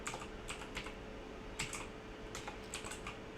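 Fingers tap on a computer keyboard in quick irregular bursts of clicky keystrokes, close and fairly quiet, with no voices over them.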